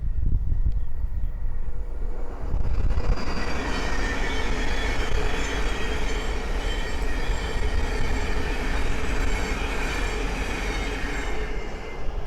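A Thameslink Class 700 electric train bound from Cambridge to Brighton passes close by on the East Coast Main Line at Great Wymondley, a loud, sustained roar of wheels and rushing air with faint rail squeal throughout.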